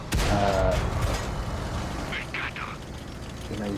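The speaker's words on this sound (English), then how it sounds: "just 1 shot into that light tank" A single heavy cannon shot from an Ariete tank in the console version of World of Tanks, a sharp loud crack with a booming tail, followed by faint background game sounds and a soft thud near the end.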